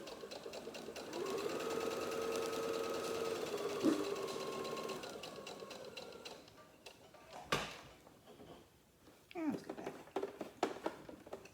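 A sewing machine stitching a fleece panel blanket runs in a steady, close whir for several seconds, then stops; afterwards come scattered clicks and handling knocks as a person talks.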